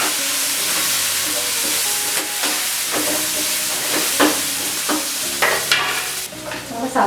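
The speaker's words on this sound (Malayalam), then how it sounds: "ഇതൊന്ന് വെച്ച് വഴറ്റി വരട്ടെ" Salted sliced onions sauté in a pan, a loud steady sizzle broken by repeated scraping stirs that come more often toward the end, close by with no speech.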